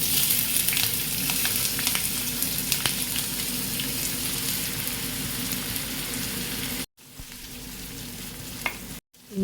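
Chopped onions fry in rice bran oil with a dense, continuous crackling sizzle, close and loud, briefly cut off twice near the end.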